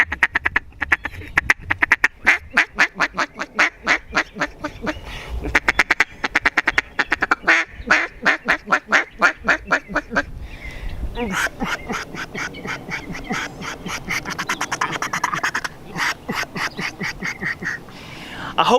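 A Mondo duck call blown softly by a hunter, giving long runs of rapid quacking notes in rhythmic bursts with short pauses, loud and close throughout.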